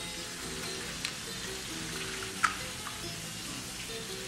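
Two eggs fry in hot oil in a pan, crackling and sizzling steadily up close, with a couple of small clicks and a brief spoken word.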